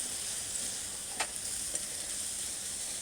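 Chopped onions sizzle steadily in hot oil for tilapia fish curry, a bright continuous hiss broken by a couple of faint stirring clicks.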